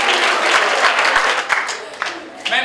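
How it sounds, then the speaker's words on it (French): An audience at a cultural identity event in Burkina Faso breaks into sustained applause, a dense wash of clapping that stays loud for a couple of seconds before thinning out near the end. "Très bien, applaudissez pour lui."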